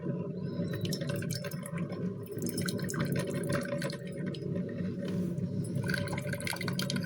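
An Elite Gourmet EHC113 single-serve compact coffee maker brews with a faint, steady gurgling and dripping of water over a low hum.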